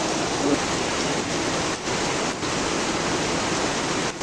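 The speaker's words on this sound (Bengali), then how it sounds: "এত পরিমাণে বৃষ্টি, খালি পানিগুলা পড়তেছে" A torrential downpour in Bangladesh makes a thick, unbroken wash of rushing water, close and loud, holding steady with a few momentary lulls.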